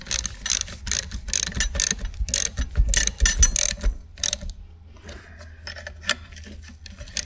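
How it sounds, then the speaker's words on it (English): A 9/16 box end wrench tightens a nut on an A4T engine near a pump, giving dense, fast metallic clicking and ratcheting bursts, close and fairly loud, easing into scattered lighter clicks and clinks toward the end. "I can tighten. But I need a 9/16 box end wrench."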